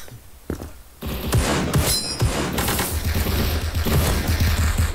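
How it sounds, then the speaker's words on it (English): Rapid SMG fire in the first-person shooter Krunker, bursts of fast automatic shots starting after a quiet opening and continuing loudly with clanging hits layered over them. "he was just shooting all over the place. Though it is an SMG, so it's meant to be shot like that"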